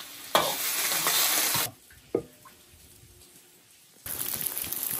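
Duck pieces stir-frying in an iron wok with a little oil, giving loud bursts of sizzling and stirring that break off into a quieter gap with a single clatter, then start up again.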